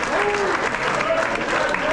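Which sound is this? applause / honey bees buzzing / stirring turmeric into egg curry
applause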